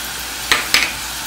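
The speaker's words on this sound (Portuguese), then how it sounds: "Vamos colocar a carne moída para fritar primeiro." Ground beef sizzles in a pan with garlic, a steady hissing fry close to the listener, broken by two quick scraping stirs.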